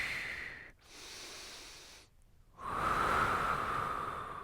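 Heavy exhaled breaths rush out in bursts during a side-lying leg kick mobility exercise, with a short pause between the first two and a longer, louder breath at the end, close and unaccompanied by talk.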